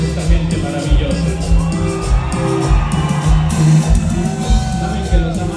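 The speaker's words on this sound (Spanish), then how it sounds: "un aplauso para toda esta gente maravillosa" A live concert crowd in New York cheers, whoops and claps for the band, loud and continuous, with shouts rising above it and deep rhythmic thumps underneath.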